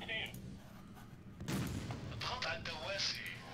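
Mortar fire in the war game Syrian Warfare, set in Damascus: heavy booms and thumps with a loud blast near the middle, followed by further gunfire under a continuous battle din.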